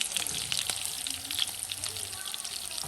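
Onions sizzle and crackle in a pan over lowered heat for a keto hotdog topping, a steady close frying hiss with scattered pops and no talking.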